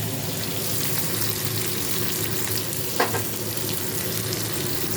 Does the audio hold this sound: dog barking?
no